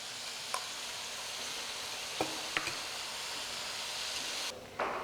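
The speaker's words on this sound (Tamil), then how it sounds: "இப்போ பூண்டு அரைச்சி வச்ச பூண்டை நம்ம போட்டு வதக்கிட்டு இருக்கோம்." Garlic paste sizzling and frying in hot oil for pickle making, a steady bright crackling hiss throughout with a few sharp stirring clicks, fairly close and alone.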